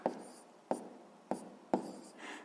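Pen strokes as fractions are written by hand during a sixth-grade math lesson: four distinct scratchy strokes, evenly spaced, close and quiet, with no voice.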